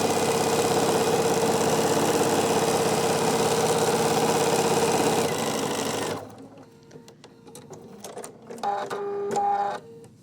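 A sewing machine stitches wavy quilting lines in a quilt-as-you-go project with a loud, steady mechanical whir for about six seconds. It then stops, leaving faint handling noises and a brief renewed burst of motor sound.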